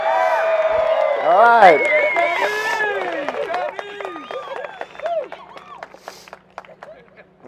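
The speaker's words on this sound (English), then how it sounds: "Can we get like a cheer real quick?" A wedding crowd cheers and whoops on request, with a voice speaking over it at the start, loud and close, the cheering fading gradually toward the end.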